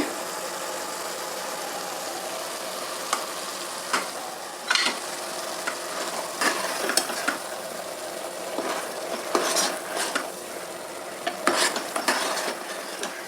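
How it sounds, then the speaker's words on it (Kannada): A ground spice paste stirred and fried in a pan gives a soft, continuous frying hiss, broken by repeated scraping and clinking strokes of the stirring spoon, close up and with no talking. "ಇವಾಗ ರುಬ್ಕೊಂಡಿರೋ ಮಿಶ್ರಣನ ಮಿಕ್ಸ್ ಮಾಡಿ ಸ್ವಲ್ಪ ಹುರಿತೀನಿ"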